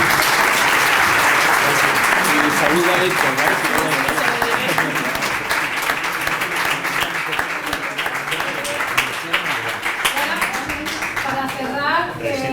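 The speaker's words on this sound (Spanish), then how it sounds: "un fuerte aplauso" Audience applause at a conference in Spain, sustained and dense for the whole stretch, with a voice speaking over it near the end.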